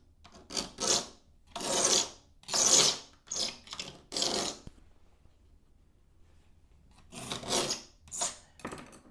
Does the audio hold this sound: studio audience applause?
no